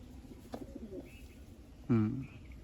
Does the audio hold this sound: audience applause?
no